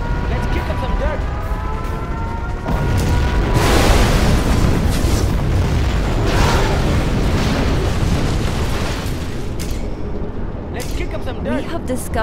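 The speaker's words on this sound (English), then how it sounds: "We have launched our nuclear missile." A massive nuclear missile explosion in Command & Conquer Generals Zero Hour, rumbling and roaring for several seconds amid ongoing battle noise with in-game voice announcements.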